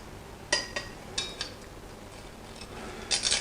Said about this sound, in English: all we have to do is just cut into our bacon bomb